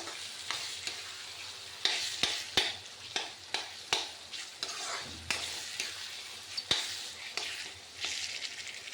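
Mashed potatoes fry in a pan for vegetarian matar paneer, a steady close sizzle broken by repeated scraping and stirring strokes, with no voices.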